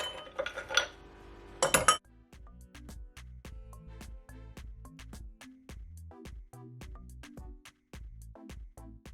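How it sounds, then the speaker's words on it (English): Ice cubes dropped into a glass for a carrot and orange juice drink: a couple of rattling clusters, then a long run of sharp, evenly spaced clinks, close and clear with no talk. "Now I'm gonna add my ice."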